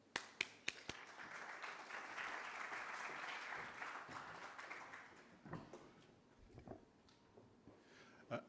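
An audience applauds to welcome a speaker to the podium at a conference on green financing for Asian infrastructure, a steady wash of clapping that swells and then thins to scattered claps, fairly faint.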